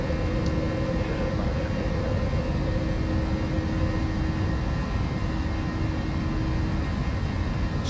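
Steady, loud engine roar of a climbing aircraft just after takeoff with gear and flaps retracted, a continuous broadband drone with a faint tonal hum, no talk over it.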